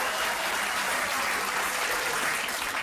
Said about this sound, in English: Dutch crowd loving it!